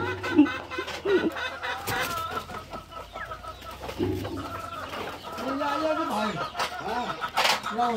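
Chickens cluck in a cage as it is cleaned, several birds calling near and far with cooing notes and intermittent knocks and scrapes, a faint voice occasionally underneath.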